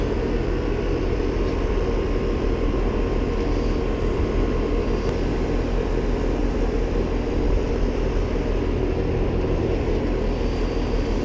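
An HVAC unit runs with a steady, broad mechanical hum and rumble that holds an even level throughout, close by with no other sounds over it.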